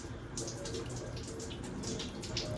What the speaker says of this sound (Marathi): सो याच्यात आता आपण पाणी टाकूया.